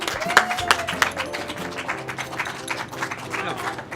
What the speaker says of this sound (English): Big round of applause for Sandry, please.